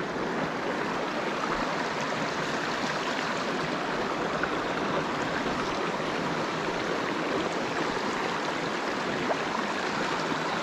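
Broad, steady rush of fast-flowing stream current running past a dry fly fishing spot, sticks caught in the water nearby; a continuous close wash of water with no pauses and no voices.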